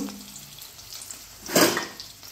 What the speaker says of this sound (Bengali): তো আমি ডালগুলো সব একসাথে করে ধুয়ে নেব